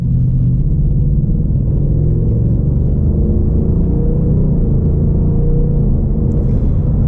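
A 2021 Ford Mustang Mach 1 driving in sport mode, with a steady deep engine rumble and low drone heard from the cabin, loud and continuous, without talk.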